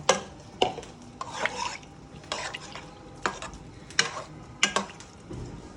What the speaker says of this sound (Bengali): এখন আমি এর মধ্যে ঝোলটা দিয়ে দেব, তরকারির ঝোল।